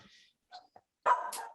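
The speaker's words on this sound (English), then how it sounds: "I apologize for my dog here." A dog barks in the background of an online town hall meeting, a few short yaps followed by a louder, longer burst near the end, with gaps of silence between them.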